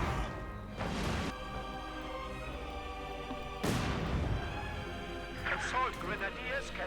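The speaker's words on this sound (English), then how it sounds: "the mortars are supporting the advance here" Mortars fire in Company of Heroes 2, two heavy booming blasts a few seconds apart with crashes and smaller battle noises between, all under steady commentary.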